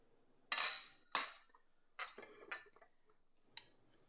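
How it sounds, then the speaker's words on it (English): A metal spoon picked up and handled among dishes during a home cooking demonstration with eggs, making several sharp clinks and clatters in irregular bursts, close and clear with no talk. "now I'm going to take a spoon"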